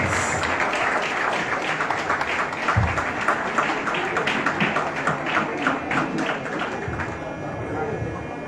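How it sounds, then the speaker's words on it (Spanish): Applause from a family audience at a 60th birthday celebration, a dense, steady patter of many hands lasting several seconds with voices mixed in and a dull thump partway through. "Así es que démosle un fuerte aplauso al Juan Osvaldo Esteban Martínez."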